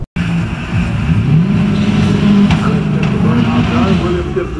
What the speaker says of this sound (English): Burnout done.